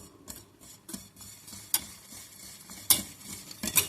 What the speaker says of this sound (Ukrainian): Ми постійно помішуємо, помішуємо.